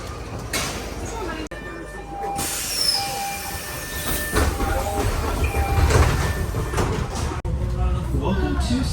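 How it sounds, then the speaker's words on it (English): A Seattle Center Monorail train rolls in with a steady rumble, hissing and brief tonal beeps, while a voice speaks over the noise. "The train is arriving."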